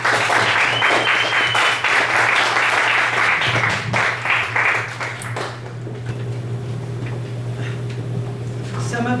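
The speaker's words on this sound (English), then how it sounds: "Clap for her." Audience applause at a poetry reading in a bistro, a dense wash of clapping for the first few seconds that thins and fades under a steady low hum.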